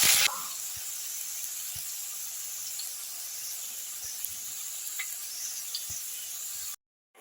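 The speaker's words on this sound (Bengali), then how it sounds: "এইবার আমি বড়িটা তুলে নিয়ে ওই তেলে দিয়ে দিচ্ছি ডুমো করে কেটে রাখা বেগুন।" Diced eggplant frying in hot oil in a pan, a steady close hiss that holds evenly throughout, with a louder sputter at the very start and a few small pops before it cuts off.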